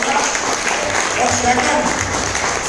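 Crowd applause from an audience at a leaders' training event in a Mumbai office, a steady wash of clapping for a couple of seconds beneath someone briefly talking.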